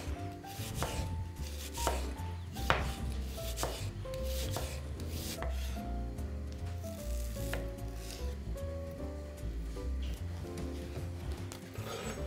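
A knife chops onion into half rings on a board, a quick uneven run of sharp close taps with scraping between them, steady and alone for several seconds.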